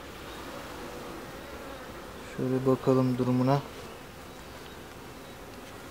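Honeybees crawling over a fresh comb in an open hive make a soft, continuous buzz throughout, with a short spoken phrase from a nearby person partway through.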